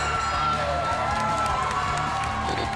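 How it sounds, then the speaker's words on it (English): A packed arena crowd roars and cheers at a GLORY kickboxing event, with a constant wall of shouting and whooping and a voice talking over it. "The crowd is electric."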